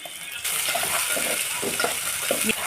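Onions, green chillies and curry leaves fry loudly in hot oil in a pan on medium flame, alongside mustard seeds, turmeric, salt and ginger paste. A close, steady crackling sizzle starts abruptly and continues, with faint stirring clinks.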